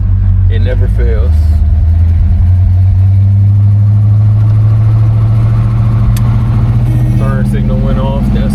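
A 1970 Buick LeSabre's engine hums loud and steady while driving under light throttle, with a constant low drone and brief faint voices or chirps near the start and end.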